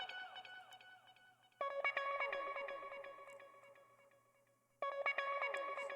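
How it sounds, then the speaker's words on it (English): Guitar stab accents in an FL Studio beat: short bright chord hits with echoing repeats that decay, two distinct stab phrases over a quiet backdrop, fairly faint. "I got these accents that also play, which is these guitar stabs"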